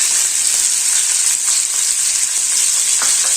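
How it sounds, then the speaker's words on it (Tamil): Onion, tomato, ginger and garlic sauté in a pan for a black chickpea kuzhambu, making a loud, constant hiss of frying with faint stirring taps. "வெங்காயம் தக்காளி இஞ்சி பூண்டு அதையும் சேர்த்துக்கலாம் இது நல்லா வதங்கட்டும்"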